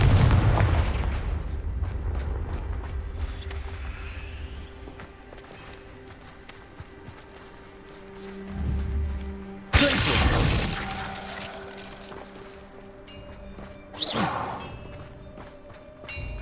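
A Confringo fire spell blasts in the video game Hogwarts Legacy, with sharp explosive bursts around the middle and later over a rumbling game backdrop, the loudest blast standing out mid-clip.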